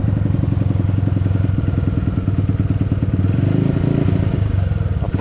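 A 2022 Honda Factor motorcycle with the choke off idles loudly up close, a rapid even putter with mechanical clatter and a slight dip in pace near the end.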